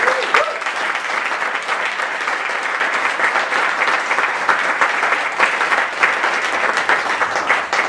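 Steady, dense applause from a concert audience at the Cutting Room, sustained and loud throughout without pause.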